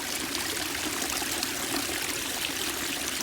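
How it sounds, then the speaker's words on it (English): Small waterfalls spilling into a concrete swimming pool in a tiger enclosure, with pumps circulating the water, a constant close rushing trickle that stays even and unbroken throughout. "It's a concrete pool, and they have little waterfalls."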